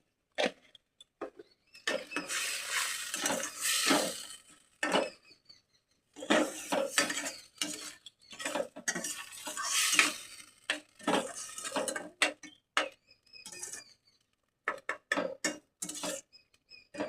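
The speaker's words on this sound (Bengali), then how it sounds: "মশলাটা যখন কষাতে থাকি" Spice masala sautéed in a pan, heard as irregular bursts of scraping and clinking from a utensil stirring against the pan, separated by short silences, close by with no talk.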